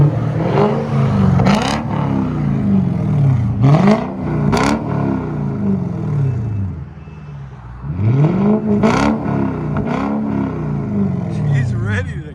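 A Lexus V8 engine in a parked car is blipped repeatedly, with sharp revs rising and falling in close succession, loud and near, and pauses of idle between them.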